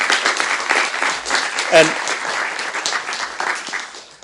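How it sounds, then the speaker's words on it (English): A conference audience at a neurotechnology ethics event gives students warm, sustained applause: dense, even clapping throughout, with a brief spoken word partway through. "give them a warm and a very hard applause for that"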